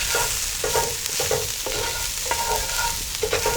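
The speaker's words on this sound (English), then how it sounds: "1 teaspoon allspice, and give that a stir." Allspice is stirred into a pot of chipotle pork and beans. A steady moderate sizzle runs under repeated scraping spoon strokes in an uneven rhythm, with no talking.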